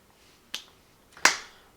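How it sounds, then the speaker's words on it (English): Two sharp, close hand claps about three-quarters of a second apart, each a crisp isolated crack in an otherwise quiet space. "What am I clapping for?"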